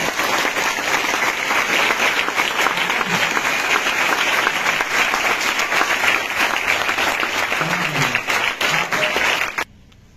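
Audience applause at a gathering to celebrate an SSC GD exam rank, loud dense clapping that holds steady for about nine seconds before cutting off abruptly.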